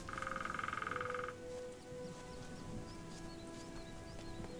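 Rain falls steadily in the video game Gothic 3, a soft continuous patter under a loud rhythmic croaking of frogs at the start, with faint chirps scattered through the wet ambience.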